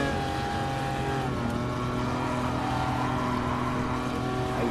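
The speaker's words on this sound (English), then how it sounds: "I love that engine note" Lancia Stratos rally car in the racing game GT Sport, its engine giving a steady, close, humming drone with no talk over it for nearly five seconds.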